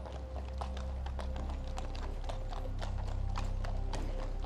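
Hooves of a slow mounted police cavalcade clop steadily on a St. John's Wood street en route to Hyde Park, many horses in continuous overlapping rhythm, loud and close, with no speech.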